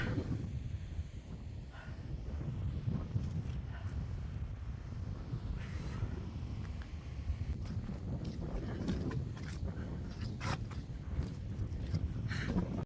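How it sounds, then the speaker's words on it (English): Steady wind buffets the microphone on exposed Kinder Scout, a low, continuous roar with gusty rumbling and no voices. "it's windy up here, hope you can hear me."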